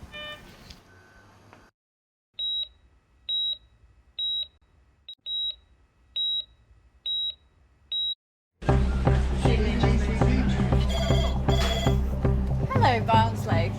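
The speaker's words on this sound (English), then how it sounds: "the emergency phone has been ringing off the hook" Repeated electronic phone beeps in a hospital emergency department casualty unit, seven evenly spaced bleeps over a quiet room, then a loud burst of busy ward noise with voices.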